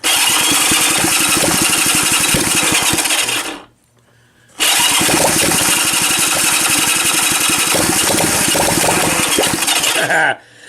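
A small Honda engine is cranked hard and tries to catch, giving a loud, harsh, churning roar up close. It drops out briefly before a second long burst of cranking that ends abruptly.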